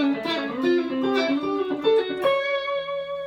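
Electric guitar playing a short repeating melodic riff of single notes, bright and slightly effected, ending on a sustained held note.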